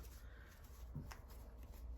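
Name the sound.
shuffling tarot cards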